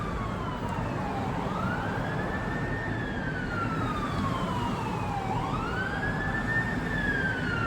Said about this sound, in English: I hear sirens in the background and in the distance.